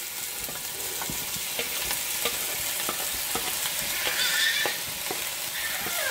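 Onions tossed into a pan with mushrooms for beef bourguignon fry with a loud, dense sizzle, punctuated by regular spatula scrapes and taps throughout.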